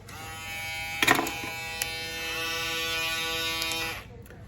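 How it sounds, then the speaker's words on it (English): A Babyliss FX3 electric shaver runs with a steady, close, mid-loud buzz for about four seconds, with a few brief clicks near the start, then switches off. "we're gonna start with the shaver"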